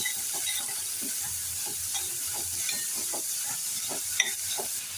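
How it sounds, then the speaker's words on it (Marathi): Finely chopped onion sautés in a pan over medium gas, with soft steady sizzling and frying hiss broken by repeated stirring scrapes and a sharp clink near the end. "आता बारीक चिरलेला कांदा घालूया. मीडियम गॅसवरती परतून घेऊया."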